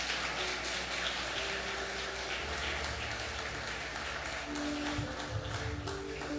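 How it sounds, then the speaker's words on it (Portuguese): A church congregation claps for the Lord in sustained, dense applause that fills the whole stretch, with soft sustained musical tones running underneath. "Dê uma salva de palmas ao Senhor."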